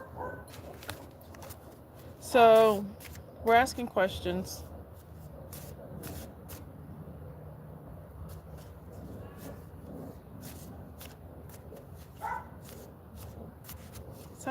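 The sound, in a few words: dog barking to get in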